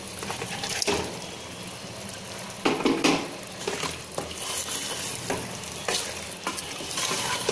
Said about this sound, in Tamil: சேர்த்து நல்லா கலந்து விட்டுருங்க.